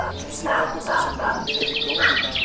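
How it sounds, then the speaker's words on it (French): A bird call by a swimming pool, identified as a pigeon, repeats in short chirping bursts close by, with people talking around it. "C'est un pigeon?"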